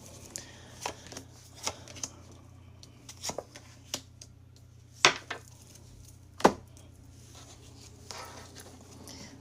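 A deck of tarot cards is shuffled and handled, giving a series of irregular crisp riffles and sharp flicks, a few louder slaps standing out over a low steady hum, close and without speech.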